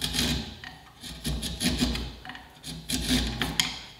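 A freshly sharpened wood chisel shaving through wood, working along the corners, in repeated rasping, scraping strokes with short pauses between them, close and fairly loud, no talking.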